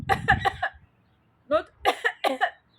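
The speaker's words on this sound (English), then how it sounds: "So you cough like that for like 20 times, 30 times" A few sharp coughs in quick succession, a short pause, then another burst of three or four forceful coughs, close and dry.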